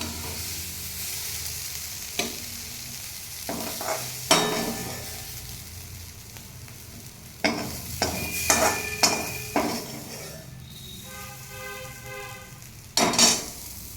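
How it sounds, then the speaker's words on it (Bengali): Bitter gourd (karela) frying in a little oil, a steady close sizzle broken by scattered sharp clinks and scrapes of a utensil against the pan, with no talking. "দেখেন, কম তেল দিয়ে এইভাবে আমরা করলা ভাজি করি"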